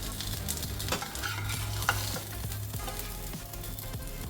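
Prawn-stuffed pomfret fries in a pan Goan style, a continuous close sizzle with a low steady hum beneath and scattered clicks and scrapes as it is turned.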